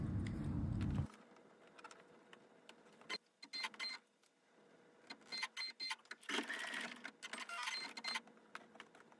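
A sewing machine stitches a hanging loop onto a hot pad made with canvas backing, in short bursts of whirring stitching separated by pauses, close and fairly quiet after a brief low hum.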